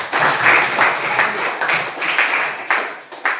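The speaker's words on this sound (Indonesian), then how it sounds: "Tepuk tangan untuk semuanya." Students in a classroom clap for one another, a short burst of applause in uneven bursts that rises and falls before tapering off.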